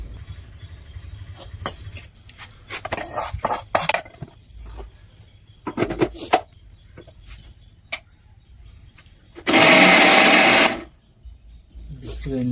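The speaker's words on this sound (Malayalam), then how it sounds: "അപ്പോൾ അതിന് മിക്സിയിലിട്ട് അടിക്കുന്നു, റെഡിയാക്കുന്നു." A kitchen mixer grinder whirs loudly in one sustained burst of about a second while blending chutney ingredients, preceded by scattered clinks and taps of utensils, with people talking nearby.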